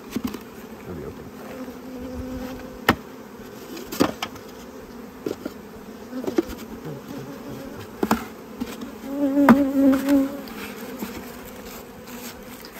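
Honey bees in a queen-mating setup buzz continuously up close, a steady droning hum with brief louder passes and swells as individual bees fly near.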